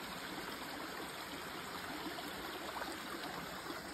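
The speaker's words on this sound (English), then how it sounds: "We have the most beautiful little waterfall here." A small waterfall and stream on the Appalachian Trail, set among rhododendrons, give a steady, soft rushing and trickling wash of water that stays even throughout with no voices.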